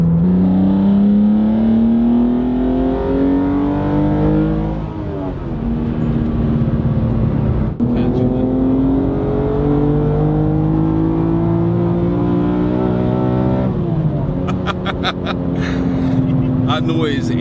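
A BMW Z4 engine revs hard, pitch climbing repeatedly through the gears with brief dips at the shifts, loud and close, while people talk over it now and then.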